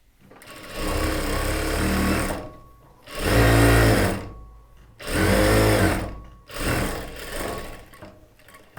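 A sewing machine stitches the sleeves of a churidar top, running in four bursts of rapid whirring separated by short pauses, close and clear.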